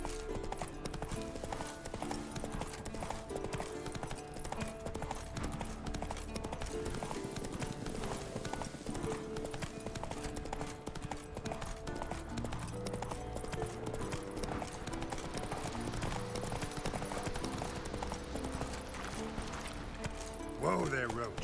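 Roach, a horse in the video game Witcher 3, gallops with a fast, continuous clip-clop of hooves under background game sound and music.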